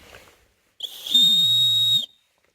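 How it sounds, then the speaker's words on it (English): A sharp, shrill emergency whistle built into the end of a survival tool sounds once, close and loud, holding a steady high tone for about a second before cutting off. "this thing right here on the end is emergency whistle, I believe. Let's check it out."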